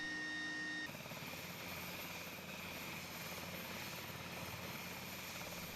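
A helicopter flies steadily overhead, its rotor and engine drone loud and continuous, settling into a constant pulsing whir after a brief shift in tone near the start.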